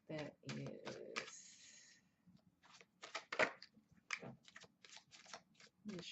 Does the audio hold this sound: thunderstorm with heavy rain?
no